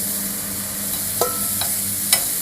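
Chicken for restaurant-style shawarma sizzles in a pan under a steady hiss, with a few sharp clinks of a utensil as it is stirred, no talking.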